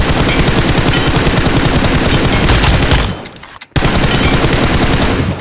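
Sustained automatic gunfire in PUBG Mobile, loud and rapid shots in a dense continuous stream, broken by one brief pause before the firing resumes.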